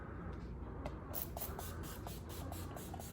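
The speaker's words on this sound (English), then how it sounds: "This is just a setting spray." Several quick, airy bursts of makeup setting spray repeat in a steady rhythm, close and moderately loud over a constant low background hum.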